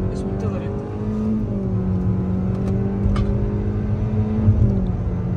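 A 2024 Hyundai Accent engine drones and revs steadily as the car climbs a steep hill, its pitch rising and holding, with a voice talking faintly underneath.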